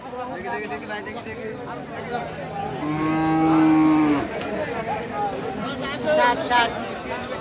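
At a busy cattle market, a dairy cow lets out a long, loud moo amid the chatter and babble of the crowd, with other voices talking nearby.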